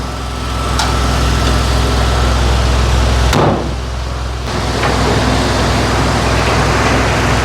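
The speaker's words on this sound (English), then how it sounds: "The engine is definitely nice and warm." A warmed-up 1983 Mazda RX-7 rotary engine idling nearby with a steady, buzzy hum. A short sharp noise breaks in midway, then the idle continues.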